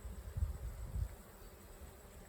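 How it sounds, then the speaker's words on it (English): Honeybees crowding a packed hive, spilling off a frame, give a low, faint droning hum that swells briefly near the start and then settles into a steady murmur. "There's bees falling off the frame because there's so many"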